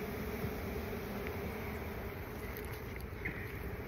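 Honey bees swarm densely around a backyard hive, their buzzing a continuous, loud, close drone with no pauses and no voices.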